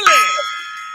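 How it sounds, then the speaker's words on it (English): A gong struck once to open the Gong Show on a launch-party stream, a bright metallic hit that rings on with a long, slowly fading sustain. "It's time gong. for the gong show."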